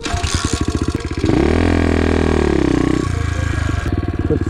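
An SSR 110 pit bike engine pulses in fast low thumps, then revs into a loud sustained drone with a pitch sweep before falling back to a choppy, sputtering idle, close by.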